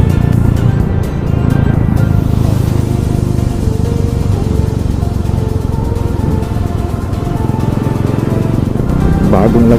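Dense road traffic full of motorcycle riders roars loud and unbroken at close range, engines droning and passing together, with a voice faintly mixed into the din.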